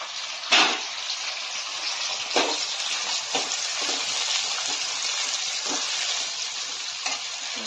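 Tomatoes go into frying onions for a fish curry, a loud, continuous sizzle with occasional sharper hisses and stirring bursts, close up and with no talking.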